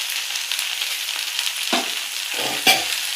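Potatoes frying with masala in a pan, a steady hiss of sizzling oil with a few scraping stirs and a sharp clink near the end, no voices.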